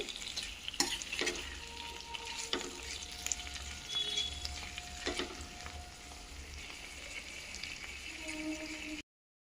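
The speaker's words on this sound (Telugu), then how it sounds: "ఇప్పుడు మనం ముందుగా కట్ చేసి పక్కన పెట్టుకున్న టమాటా వేసుకోవాలి ఇప్పుడు ఈ టమాటాని కొంచెం మెత్తగా మగ్గే వరకు వేసుకోవాలండి" Chopped tomatoes fry with onions in oil, giving a close, steady sizzle broken by stirring scrapes and clinks of the spoon against the pan, with no talking.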